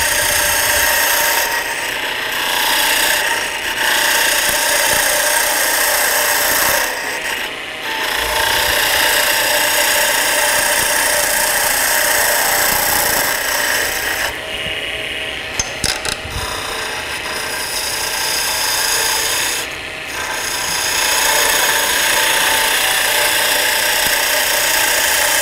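A wood lathe spins a tailstock handle extension while a skew chisel cuts it, producing a loud, continuous whirring and shearing drone that briefly dips in a few spots when the cut eases.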